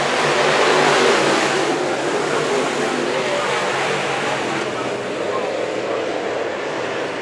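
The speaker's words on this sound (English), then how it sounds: "getting ready to go back to racing 11 lap shootout. We're back to green." Sport mod race cars roar together on the Antioch Speedway oval at a green-flag restart, a dense, loud, steady wash of engine noise that fades slightly as the pack moves off.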